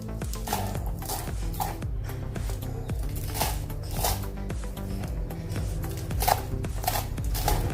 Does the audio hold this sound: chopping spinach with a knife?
yes